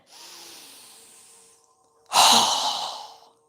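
A yoga breathing exercise: a soft, long breath drawn in through the nose, a short pause, then a strong, forceful exhale close to the mic that fades out over about a second.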